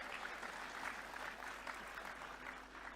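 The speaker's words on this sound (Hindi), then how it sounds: "ताली तो बजनी चाहिए" Audience applause at a government health campaign event at the Raj Bhavan in Bhopal: a dense wash of many hands clapping, steady and moderately distant throughout.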